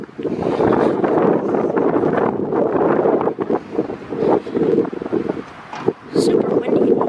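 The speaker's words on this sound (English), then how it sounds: "Super windy." Strong wind gusts outdoors at the Range Road railroad crossing in Kingsbury, Indiana, buffet the microphone in a loud, continuous roar that rises and falls throughout.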